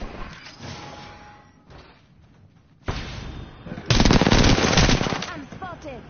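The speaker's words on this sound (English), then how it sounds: "I'm spotted. Taking fire." Automatic weapon fire in the battle royale game Apex Legends, with scattered shots, then a loud sustained burst near the end, mixed with game voice lines and ambient effects.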